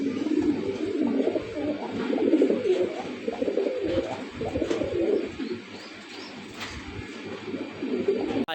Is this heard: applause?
no